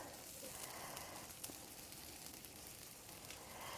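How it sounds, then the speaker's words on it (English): Steady, gentle sizzling of blueberry pancake batter frying in a hot pan, a soft continuous crackle with faint pops throughout, no voices. "And they're sizzling really nice."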